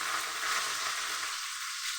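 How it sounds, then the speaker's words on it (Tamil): Chili peppers dropped into hot oil while tempering for a spinach curry, crackling and sizzling with a steady dense hiss close by, easing slightly toward the end. "இப்போது நம்ம மிளகா போட்டோம். மிளகா வெடிக்கும்."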